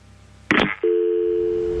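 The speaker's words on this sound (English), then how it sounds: "The judge would not answer any questions and hung up the phone." A telephone tone sounds after a receiver is hung up: a brief clatter, then a steady, loud tone that continues alone to the end.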